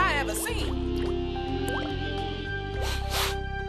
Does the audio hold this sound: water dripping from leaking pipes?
yes